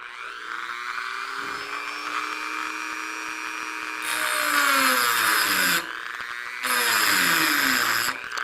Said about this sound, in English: the Dremel's plugged in